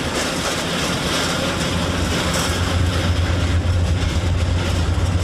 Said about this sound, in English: that is a plane based here at Hickam that is used to fly top brass around